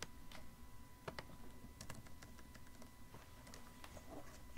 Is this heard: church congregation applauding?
no